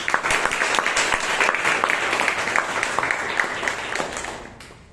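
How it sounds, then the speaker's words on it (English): A room of Toastmasters meeting members applauds steadily for several seconds, dense clapping that fades out near the end. "please give him a big round of applause"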